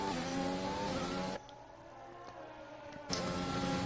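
A Ferrari Formula 1 car in a racing video game on the Austria circuit, its high-pitched engine whine loud and steady, cutting abruptly to a quieter passage before the engine roars back in near the end.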